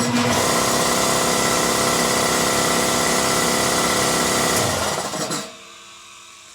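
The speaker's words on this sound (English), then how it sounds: "The electric motor doesn't want to spin up." An electric air compressor motor strains and hums loudly without spinning up, a steady close electrical drone holding for about five seconds before cutting out, with no speech.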